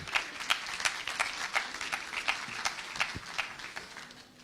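An audience applauds after a talk at a nutritionists' scientific congress, steady close-range clapping from a moderate crowd that gradually thins and fades.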